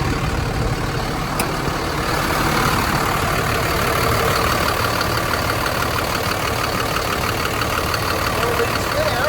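A school bus engine idles at a steady, even rumble, close and continuous throughout.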